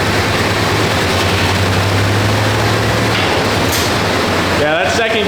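Worn 250k-mile OBS Chevy truck on a big nitrous shot, its engine roaring loud and steady through a low gear pull before easing off, with people talking over the noise.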